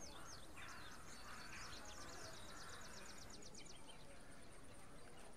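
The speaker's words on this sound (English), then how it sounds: "What are those jungle bird sound effects?" Jungle bird calls from a holiday-themed tabletop game soundscape: a rapid series of repeated chirps and trills, fairly faint and steady, over a low background hiss.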